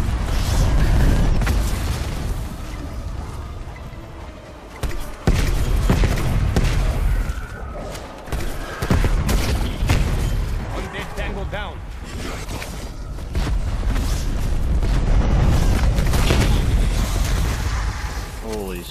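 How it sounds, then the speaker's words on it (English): Cruise missile strikes in Black Ops Cold War Zombies give repeated heavy booms and rumbling blasts, loud and close, with mechanical clanks between them, while players talk over the action. "did I just use like 3 cruise missiles? Yeah, it's all of the explosions"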